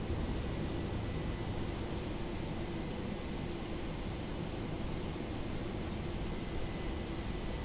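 Steady, broad roar of an airliner's engines during departure from runway 18 in Microsoft Flight Simulator 2024, a constant wash of noise with no change in level and no talking.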